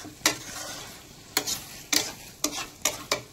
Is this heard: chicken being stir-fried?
yes